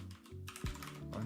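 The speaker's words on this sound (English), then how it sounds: "my typing today is not good" Quick, soft keystrokes clatter on a computer keyboard during coding, a faint close patter of several taps with a low hum underneath.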